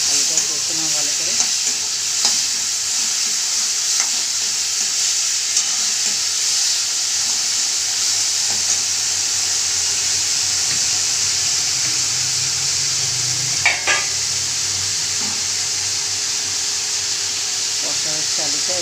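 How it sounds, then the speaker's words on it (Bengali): Potatoes being stir-fried with spices and a splash of water for an aloo posto dish with bottle gourd greens, a loud steady hissing sizzle throughout with occasional scraping stirs, and a voice speaking faintly underneath. "কষা হচ্ছে আলুটা"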